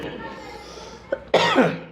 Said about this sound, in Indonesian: saya masih batuk-batuk kan